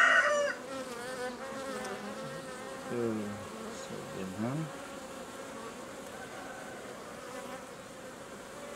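Honeybees buzzing around an open beehive frame, a continuous close drone with a brief spoken remark and a faint rooster crowing in the background.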